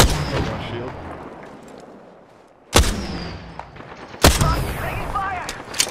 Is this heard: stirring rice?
no